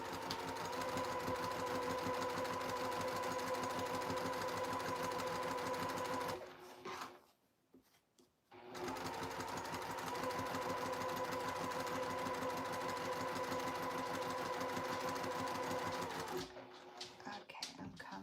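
A sewing machine running fancy decorative stitches, a loud, steady close-up whir in two long runs with a short pause between them and no talking.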